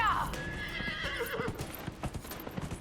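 A horse in the video game Dragon Age: Inquisition whinnies briefly and then gallops, its hooves pounding in a quick, steady rhythm up close, with a voice talking over it.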